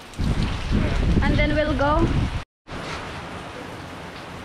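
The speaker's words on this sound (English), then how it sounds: "we'll wait for the rain to stop" Rain pours steadily on a trip in northern Vietnam, a dense, loud hiss close by with a brief gap partway through, while a person talks over it.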